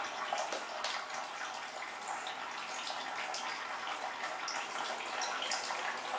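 Steady broadband rush of water as a pump refills a hydroponic reservoir in an Arduino-controlled plant watering system, a constant hiss-like flow with faint splashing, moderately quiet and unbroken throughout.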